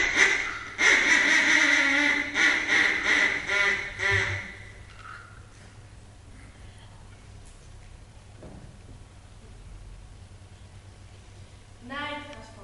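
Ducks quack in a loud, rapid burst of overlapping calls at the start as a sound effect. Then it falls quiet, with a soft low hum and a faint quack near the end.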